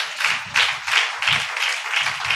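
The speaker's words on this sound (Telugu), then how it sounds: "గట్టిగా చప్పట్లు కొట్టండి." An audience at a Telugu Christian fasting festival sermon claps loudly in repeated bursts of applause, rising and falling in waves with no talking.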